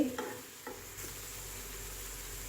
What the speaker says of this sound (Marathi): हा मसाला आपण इथे छान परतून घेणार आहे